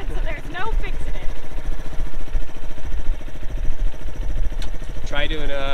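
A mini cafe racer motorcycle engine idles steadily at close range with a low, continuous throbbing rumble, while people talk over it throughout.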